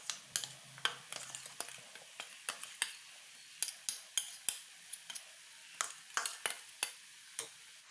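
A spoon stirs a banana stem and jackfruit seed stir-fry (thoran) in a pan, scraping and clinking about a dozen times in a quick, uneven rhythm. The scrapes are close and distinct, with no talking.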